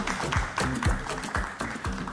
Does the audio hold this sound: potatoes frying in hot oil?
no